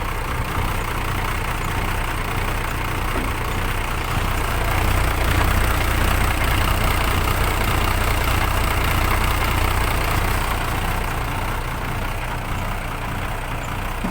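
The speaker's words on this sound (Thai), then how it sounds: "เครื่องคันนี้แห้งมากเลย" A steady, loud diesel engine of a Fuso dump truck idles close by for the whole stretch, a continuous low rumble with a slight swell in the middle.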